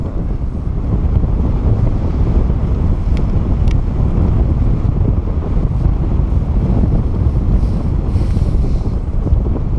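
Strong wind buffets the microphone during a glider flight in a constant low, gusty roar for the whole stretch, with a couple of faint clicks.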